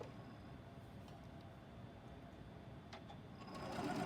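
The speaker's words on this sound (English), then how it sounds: "so now I'm going to sew in the 2 lines." A sewing machine runs steadily and close up, stitching two lines through pieced half square triangle quilt blocks, with a continuous whirring needle rhythm that grows slightly louder near the end.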